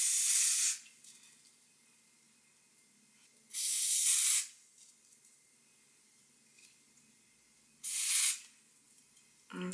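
Hair spray hisses onto a blonde wig with dark roots, three loud bursts of about a second each separated by quieter stretches of room noise.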